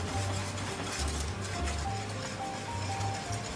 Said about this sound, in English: So to avoid any lumps, I'll use my whisk